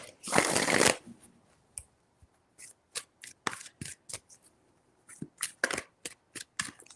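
Tarot cards being shuffled by hand: a long dense riffle burst at first, then a string of short quick card flicks and slides in uneven bursts, close and clear with no talking over them.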